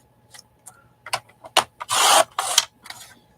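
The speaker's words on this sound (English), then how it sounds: "I'm gonna go ahead and cut this part off." Scissors cutting off part of a printed image, close and crisp, with a few short snips building to longer rasping slices of paper in quick succession.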